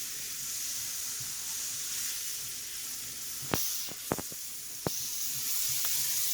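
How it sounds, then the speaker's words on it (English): Onions and garlic fry in canola or olive oil in a pan for pork and shrimp fried rice, giving a steady bright sizzle with a few sharp clinks of a utensil against the pan. "Now I'm gonna cook the onions and the garlic."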